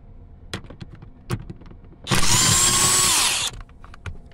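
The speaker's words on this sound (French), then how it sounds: "Moi, je vais le faire avec une clé à choc, mais normalement, c'est aussi faisable avec une bonne clé." An impact wrench rattles loose a bolt inside a Jeep Grand Cherokee SRT during a battery change, one loud sustained burst of about a second and a half, with faint clicks and handling noises before and after.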